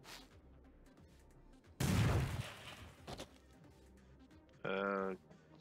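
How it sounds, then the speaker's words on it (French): A sharp burst of gunfire crackles loudly for a moment in the video game Madness Combat 2, followed by a softer shot and a brief electronic tone, with quiet background between. "c'est quoi ces coups de feu, là?"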